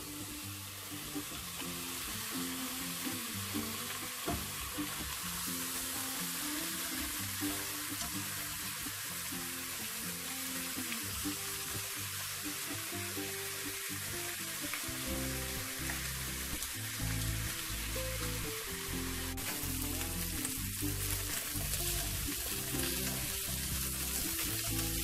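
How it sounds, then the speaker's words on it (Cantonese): Lamb belly frying in a wok with no added oil for a braised lamb and bean curd stick casserole, a loud continuous sizzle with occasional stirring scrapes, close and steady throughout, no voices. "先煎一煎嗰啲羊肉先，咁唔使落油"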